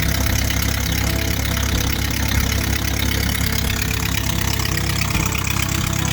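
A tractor engine idles steadily in cold, snowy weather, a continuous low rumble with a mid-range drone that stays close and loud throughout, with no speech.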